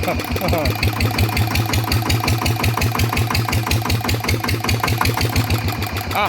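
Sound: RT100 engine running at low revs

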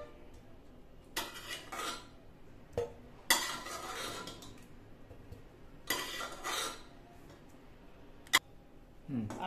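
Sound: taking boiled potatoes out of a pressure cooker with utensils

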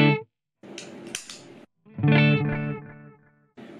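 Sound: electric guitar through MXR Carbon Copy Deluxe delay pedal

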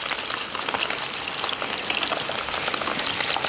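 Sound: deep frying meatballs in oil

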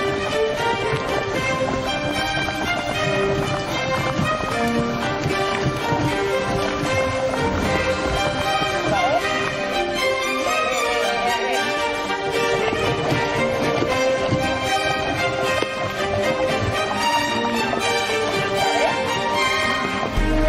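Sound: horse hooves clip-clopping during training

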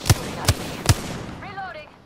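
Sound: gunfire in Apex Legends video game

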